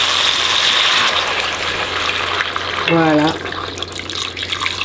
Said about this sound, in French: Je vais mettre un petit peu d'eau.